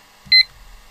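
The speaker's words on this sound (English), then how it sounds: "Timer reset for 15 minutes and starting." A digital timer sounds one short, loud electronic alarm beep while LiPo batteries are parallel charging, a brief double-toned chirp over faint low hum, with no one talking.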